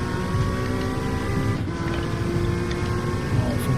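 NSX Gr.3 race car in Gran Turismo at full throttle, its engine a loud sustained buzzing drone with a brief dip as it shifts, then pulling on steadily, with no voice over it.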